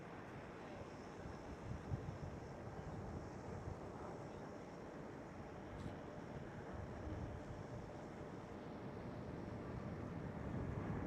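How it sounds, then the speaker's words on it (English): A Boeing 737-700 taxiing at Amsterdam Schiphol airport gives a low, steady engine rumble, heard at a distance under heavy wind noise on the microphone. "And another 737-700 taxiing in the shot."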